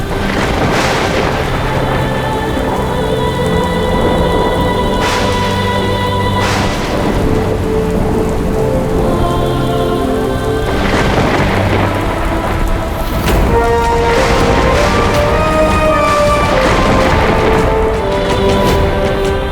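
Heavy rain with thunder pours loudly under sustained dramatic music, its hiss and occasional booms filling the background continuously, with no voices.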